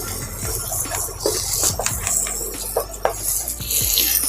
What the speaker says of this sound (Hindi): और मीडियम आंच पे ही हम शकरकंद को 10 मिनट के लिए भूनेंगे